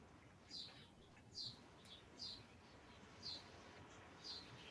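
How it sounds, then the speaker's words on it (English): Short bird chirps sound outside a window, five brief high calls spaced about a second apart, faint and fairly distant over a quiet background. "I hear a bird chirping."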